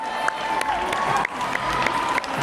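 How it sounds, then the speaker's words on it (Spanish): Crowd at a football match in the Philippines, Philippines versus Thailand, applauding and cheering in a steady, dense wash of clapping and voices that continues throughout, with no talk over it. "Ahora nos aplauden a nosotros"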